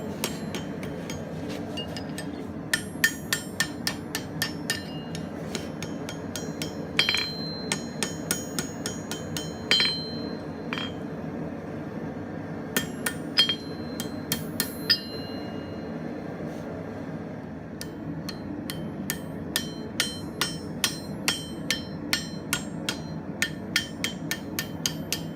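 Hammer blows ring out on an anvil as a blacksmith shapes the bottom scroll of a decorative hook freehand with a turning fork in the hardy hole, sharp metallic strikes in irregular bursts with pauses between.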